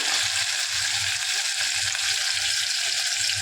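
Cumin, crushed garlic and green chili crackle in hot oil with mustard seeds, a loud, dense, continuous sizzle close up with faint rhythmic stirring underneath.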